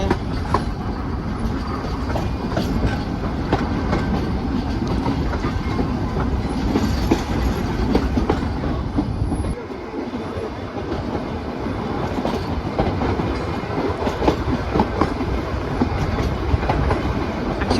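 Riding aboard the diesel-powered Ooty toy train, a continuous loud rumble and rhythmic clack of wheels on rail fills the scene, with a short dip in the noise midway.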